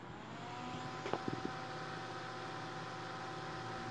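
An old cooling fan from a Lab Series L11 guitar amplifier running, a faint steady hum and whir with a few brief clunks or knocks near the middle.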